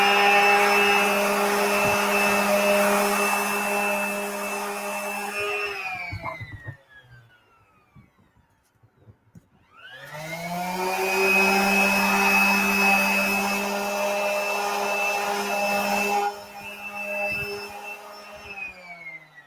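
Loud whining motor of a power sander running, cutting out for a few seconds in the middle, then starting up again.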